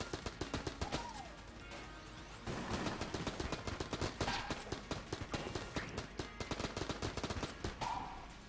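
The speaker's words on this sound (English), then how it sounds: "We'll kill you with bouncy bullets." Rapid video-game gunfire from Enter the Gungeon firing bouncy bullets, dense repeated shots in fast bursts that carry on steadily through the whole stretch alongside game effects, with no talk.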